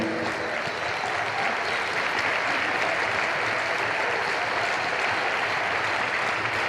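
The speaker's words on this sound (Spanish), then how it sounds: "dele un aplauso precioso al Señor." Sustained applause from a church congregation, steady and dense clapping throughout without any break.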